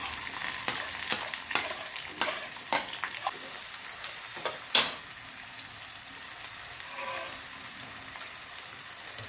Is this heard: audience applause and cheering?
no